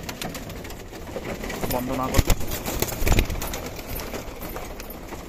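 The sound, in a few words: pigeons cooing in a loft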